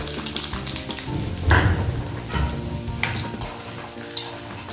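Garlic and peanuts fry in oil in a pan for a fenugreek curry. The sizzle is steady, with irregular popping crackles and a few louder stirring scrapes close by, and no talk.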